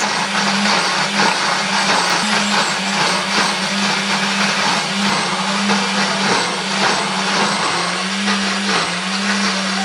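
An electric blender grinding shallots, ginger, turmeric and chilies into a paste, with a loud, steady motor whine and a gritty churning roar that hold unbroken throughout.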